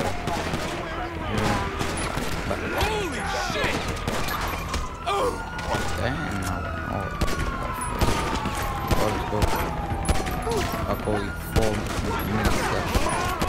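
Gunfire in the video game GTA 5, dense rapid shots and bursts that run without a break, mixed with wailing police sirens and game noise, loud and continuous throughout.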